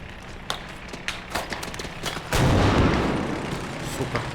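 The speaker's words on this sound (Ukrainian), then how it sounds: "Такий звук був, наче він звідси стріляв. І з барета стріляв." Sharp video-game gunshots crack in a quick series, followed by a heavy booming blast from a Barrett sniper rifle that lingers, with faint footsteps and movement underneath.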